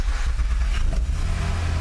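An Acura TL engine starts up and runs as a loud, close, steady low rumble with slight revving, with no talking over it.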